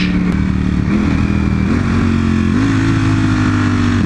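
A motorcycle engine runs loud and close at full throttle, its droning pitch climbing in a few small steps without any pause.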